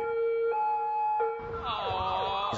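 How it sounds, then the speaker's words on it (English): A police siren wails close and loud behind a car cruising down a highway, its tone rising and falling in a repeating sweep over a brief stretch. "There's no worse sound in the world than hearing that siren and knowing the man is coming to get you."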